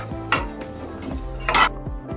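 Spoon scraping and clinking against a pot while pulao spices and garam masala are stirred, several distinct metallic knocks and scrapes in quick succession, close and clear.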